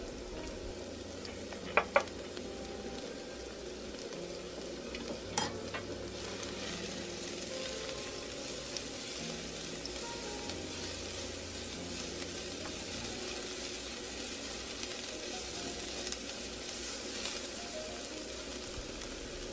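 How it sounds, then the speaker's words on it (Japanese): Scallions stir-fry for vegan mapo tofu in a steady, even sizzle that runs throughout. A few sharp utensil clicks stand out near the start, and no one speaks. "ネギを入れて炒めていきましょう"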